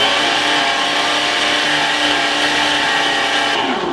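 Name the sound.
meat grinder mincing meat with onions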